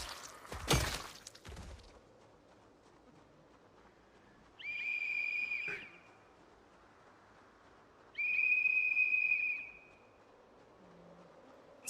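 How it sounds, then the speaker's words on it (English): A super high-pitched video game whistle sounds twice, each a steady shrill tone lasting over a second, with a sharp crash-like burst at the start and faint background noise between. "We got that super high-pitched whistle."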